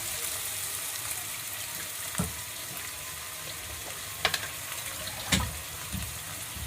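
Tomatoes dropped into hot oil with onions already frying for a Bengali boal fish curry sizzle steadily at close range, with a few sharp spatters and scraping stirs breaking the continuous hiss.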